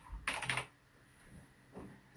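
Short bursts of computer keyboard typing close by: a quick cluster of keystrokes, a pause, then one more press, with no talking.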